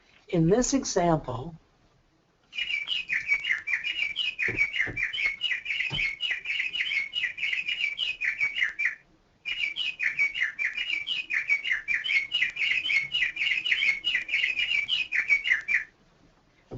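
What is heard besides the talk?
birds chirping in the background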